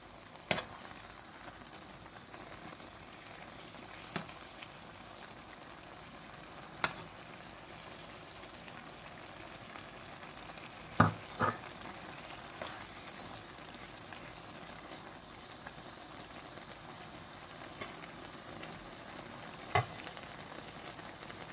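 Pumpkin cooking down in a pan, Guyanese style, as its liquid evaporates, with a low, continuous bubbling sizzle and a few scattered faint clicks and knocks spread over time.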